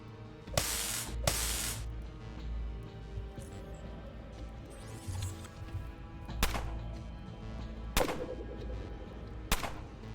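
An enemy fires a gun in the Underrail video game: several loud, sharp shots come in uneven bursts, with quieter mechanical noise and hiss between them.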